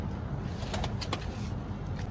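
Pigeons coo softly in a few brief low calls against a steady wash of outdoor background noise, with no one speaking.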